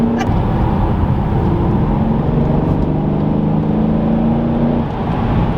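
A 600 hp Mercedes E63S AMG wagon pulls hard up a highway on-ramp, its engine droning loud and steady as it gains speed with turbo spool, heard from inside the cabin with no talking.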